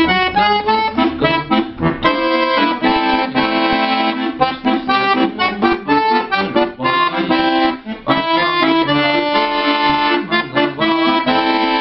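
An accordion plays a lively chorus melody with full chords and a steady rhythmic bellows pulse, loud and close, with no voices.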